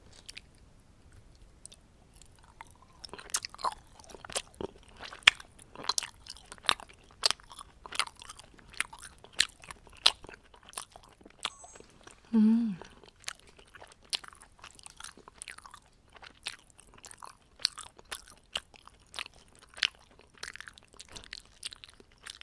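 Charcoal-grilled jokbal pork trotters being eaten up close, with steady sticky chewing and soft crunches in an irregular rhythm, after a brief quiet opening.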